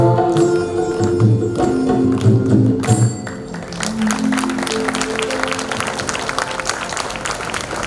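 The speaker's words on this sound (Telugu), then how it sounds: "చప్పట్లు కొట్టిన వాళ్ళందరికీ" Audience clapping at a Hindu yagam, a large Athirudra maha yagnam ritual. Musical chanting tones fade after a few seconds and give way to a dense, steady crowd applause that carries on to the end.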